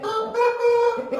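A rooster crows nearby, one loud sustained harmonic call that wavers in pitch before breaking off.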